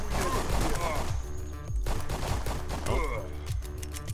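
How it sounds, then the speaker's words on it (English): Rapid bursts of gunfire from a video game as a civilian is riddled with bullets, dense and continuous over layered game music and effects, with a voice speaking faintly beneath. "Oh, I say that and immediately pepper that civilian with bullets"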